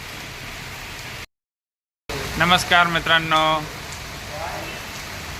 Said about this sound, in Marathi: बाहेर पाऊस पडतोय आहे